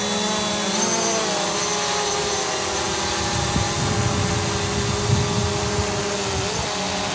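A C-Fly Obtain F803 quadcopter drone whines steadily in flight as it climbs, its motor pitch shifting slightly, with a continuous close, loud buzz and no speech.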